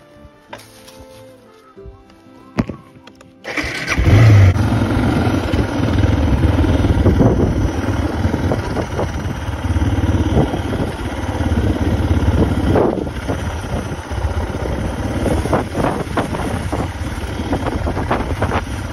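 Suzuki DR 650 dual-sport motorcycle engine running loud and close under heavy wind buffeting on a camping ride, starting after a few quiet seconds and rumbling continuously with fluctuating revs.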